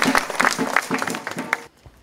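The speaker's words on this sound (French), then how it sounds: "Acclamons pour notre Seigneur." A church congregation claps together in a quick, steady rhythm, loud and close. The clapping stops abruptly near the end and leaves near silence.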